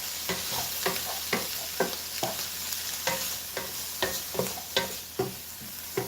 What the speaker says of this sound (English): you start stirring